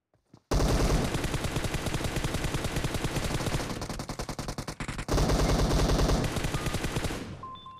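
M4 rifle fire in a mobile battle royale game, a loud sustained automatic burst of rapid shots running for several seconds with a brief break before another burst, then tapering off.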